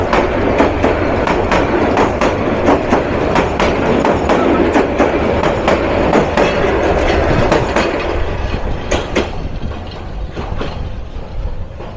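The 782 Kishoreganj Express runs on rails between Kishoreganj and Dhaka, its wheels beating a steady, loud clickety-clack over a dense rolling rumble that eases slightly toward the end.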